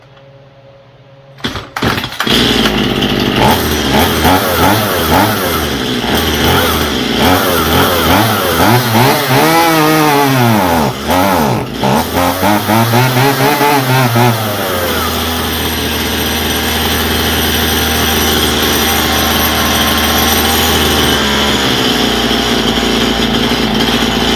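A Stihl MS171 chainsaw with carburetor problems sputters and catches after a few pulls, revving up and down unevenly, then settles into a loud, steady running drone close by.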